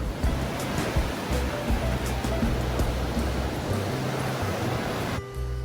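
Continuous wash of surf at Hookipa beach in Paia, Maui, a dense rushing roar of breaking waves held at a steady level before cutting off abruptly near the end.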